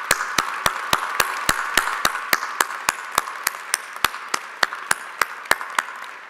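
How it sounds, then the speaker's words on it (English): Steady, evenly spaced claps ring out at a medical school commencement, about three per second, crisp and fairly close over a low room hum, with no voices. "I'd like to make sure they all get a round of applause right now."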